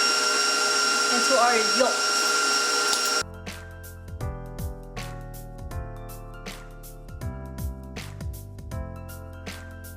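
An electric mixer whips egg whites with sugar, a steady whirring drone for about three seconds before it stops; a voice talks over it, then quieter kitchen sounds follow.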